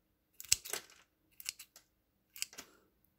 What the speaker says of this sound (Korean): 일단 가위는 소독해 왔고요. 긴 뿌리부터 자를 거니까 이렇게 자르고요.